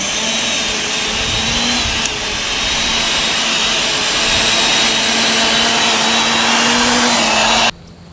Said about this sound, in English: All right, so let's till this in real quick